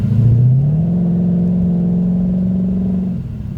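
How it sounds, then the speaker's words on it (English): A Ford Mustang's exhaust drones close by while driving, a loud, steady low engine note that rises briefly at the start, holds evenly, then eases off near the end. "And we're back to having an exhaust note."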